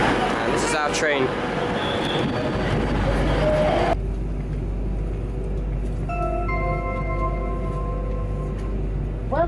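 A Virgin Trains train pulls into a station platform with a steady low rumble and rising, held whining tones growing in the second half, after a stretch of nearby talking.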